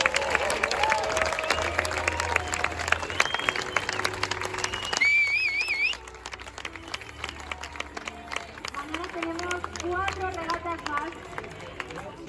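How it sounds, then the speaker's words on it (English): An audience applauds the America's Cup semi-finalist teams on stage at an event in Barcelona, Spain, with sustained crowd clapping that stays steady throughout while a voice and some crowd murmur carry over it. "let's give them a huge collective round of applause"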